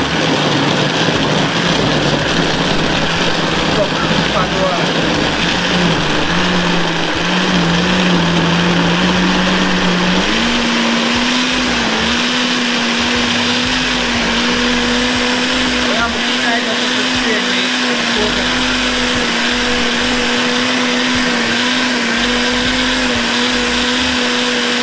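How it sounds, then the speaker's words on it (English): A kitchen blender runs loud and close for the whole stretch, a constant whirring motor drone whose pitch shifts and settles higher partway through as the contents break down. "Plug in my blender."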